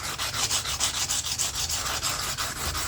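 A section of broken sanding belt is worked back and forth over the corners of a knife handle held in a vise, making loud, steady rhythmic rasping strokes, roughly four per second, with no talking.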